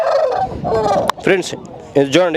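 An aseel rooster at a busy village poultry market gives two short, strained calls near the end, with crowd noise and a voice speaking before them.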